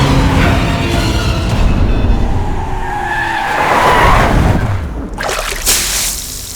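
A car in a dubbed action movie speeds off with its tires skidding, giving a loud, sustained screech and roar that swells and then fades, with a rushing engine sound.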